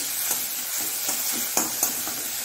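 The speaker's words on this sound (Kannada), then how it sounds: "ಬೆಳ್ಳುಳ್ಳಿದ್ದು ಸ್ವಲ್ಪ ಬ್ರೌನಿಶ್ ಬರುವಾಗ ಈ ಟೊಮ್ಯಾಟೊವನ್ನು ಇದಕ್ಕೆ ಹಾಕೊಳ್ಳೋಣ" Finely chopped tomatoes frying with browned garlic in a pan, a steady close sizzle broken by a few scraping stirs.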